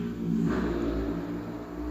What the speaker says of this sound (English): I think somebody has a little dirt bike or something, or maybe it's a little car.